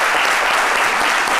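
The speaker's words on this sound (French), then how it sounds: "On applaudit quand même pour tous les papas." A television studio audience claps loudly and steadily in dense, even applause that holds unbroken from start to finish.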